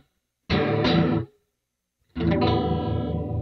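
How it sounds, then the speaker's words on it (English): Two bursts of electric guitar through an amp with effects, a short chord that cuts off, then a longer ringing strum after a pause. "Play the guitar to test the signal."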